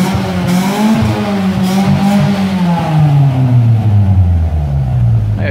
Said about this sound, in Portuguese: De alta que ele dá aquele estralado, mas assim, médias rotações, baixas, ele é bem silencioso.